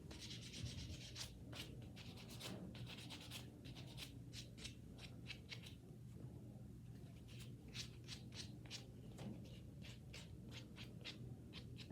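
A nail file rubs rapidly across fingernails in short, quick strokes, a soft scratchy rasp repeating in bursts, close and quiet over a low steady hum.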